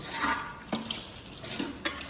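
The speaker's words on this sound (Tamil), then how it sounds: "கொஞ்சம் தண்ணி ஊற்றி வேக வச்சுக்கோ ஒரு முக்கால் சொல் தண்ணி ஊற்றி வைக்கிறது" Water is poured into a pot of meat curry (kari kuzhambu) being cooked, making a soft, uneven splashing with a few sharper clinks, fairly quiet and close, with no talk.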